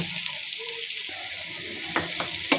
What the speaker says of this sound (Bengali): টমেটোটা আমি ভেজে নিব